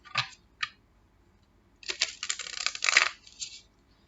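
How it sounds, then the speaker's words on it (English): A new tarot card deck being shuffled by hand, close crisp riffling bursts, two brief ones followed by a longer rustling flurry. "So we're gonna shuffle the deck, guys."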